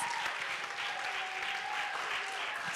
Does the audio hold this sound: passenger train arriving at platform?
no